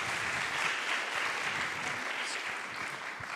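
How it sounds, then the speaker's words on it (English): A student enterprise showcase audience gives a round of applause, a continuous wash of clapping from many hands that stays fairly level from start to finish without speech. "Another round of applause,"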